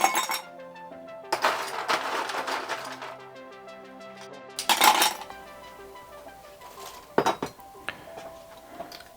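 Ice clinks and rattles in an old-fashioned cocktail glass, with bright clusters of glassy chinks and a few sharper hits spread unevenly across the stretch, close and clear, with no talk.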